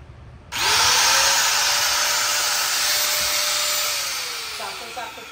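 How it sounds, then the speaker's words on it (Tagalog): A heavy-duty Dongcheng angle grinder spins up with a sharp start and runs steadily at full speed, a loud continuous whine that stays alone and tapers slightly toward the end. "Ito po, Angle Grinder na Dongcheng."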